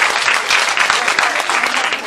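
An audience at a cosplay contest during a fan convention claps loudly and continuously, a thick, even wash of applause filling the hall.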